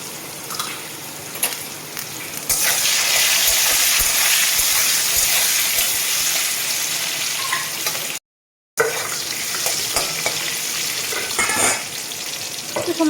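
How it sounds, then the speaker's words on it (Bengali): Potatoes frying in a pan with a little turmeric and salt, a loud continuous hiss that swells after a few seconds, briefly cuts out, then returns with a few stirring knocks. "এখন আমি আলুগুলোকে ভেজে নেব। অল্প একটু হলুদ, অল্প একটু নুন দিয়ে দিলাম।"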